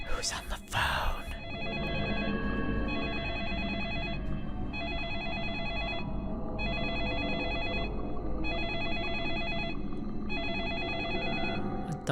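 A telephone in the Deadly Premonition Origins game rings repeatedly in an even electronic pattern of bursts and short pauses, loud and clear, while someone talks over it.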